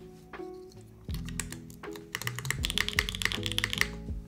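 Rapid typing on a Bauer Lite mechanical keyboard fitted with a Nixie spacebar, close and crisp, with irregular clacky keystrokes and deeper thocks from the spacebar, building into a fast flurry.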